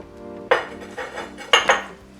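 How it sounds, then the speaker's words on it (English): Potato wedges being tossed with oil in a bowl, with two clattering bursts of utensil and bowl knocks a second apart and quieter scraping in between. "Next, you can put the oil in and toss it together."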